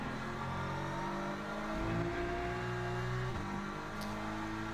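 GT3 race cars in the sim racing game Le Mans Ultimate rev and accelerate during pre-season qualifying, engine notes rising and shifting as several cars pass, loud and continuous with no talk.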